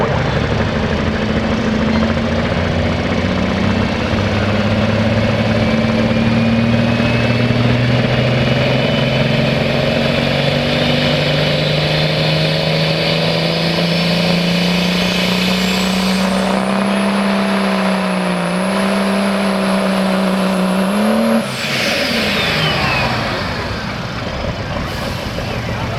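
A Lucas Oil hot rod semi truck races at a fairground, its big engine roaring loud and rising steadily in pitch as it accelerates, then cutting off abruptly near the end with a falling whine.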